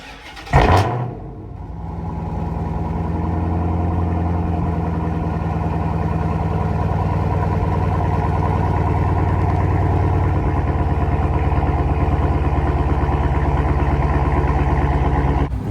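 A Dodge Hellcat with a drag pack fires up with a sharp startup bark, then settles into a loud, steady rumbling idle with a constant high supercharger whine held close for the rest of the clip.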